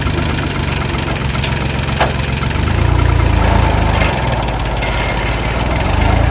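A tractor engine runs close by with a loud, steady, throbbing rumble that swells slightly partway through and keeps going without a break.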